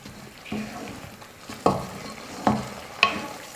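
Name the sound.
stirring carrot and milk cooking in a pan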